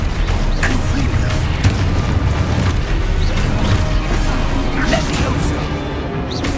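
Confringo blasting spell explosions in the Hogwarts Legacy video game, a dense, continuous barrage of booming blasts and crashing impacts amid busy combat effects, with talk mixed in throughout.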